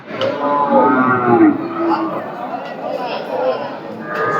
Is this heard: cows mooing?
yes